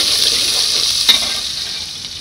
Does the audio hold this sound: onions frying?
yes